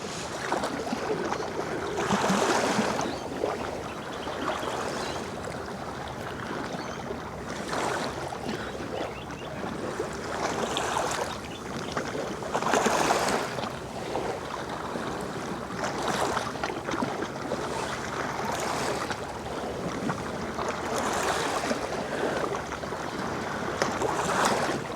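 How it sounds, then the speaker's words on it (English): Ocean waves wash in and recede in a slow rolling rhythm, broad steady surf with periodic swells about every five seconds, heard alone without any talk. "Just enjoy the sound of the waves."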